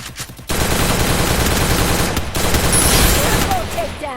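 Gunfire in a shooting video game comes as dense, sustained automatic bursts that are loud and continuous after a brief quieter start, mixed with game effects.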